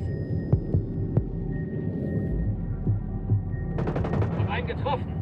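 Gunfire in the video game Ghost Recon Breakpoint comes as scattered sharp shots over a low throbbing hum, followed by a rapid burst near the end, with talk running through.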